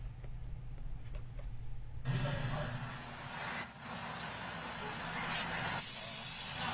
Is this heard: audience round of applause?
no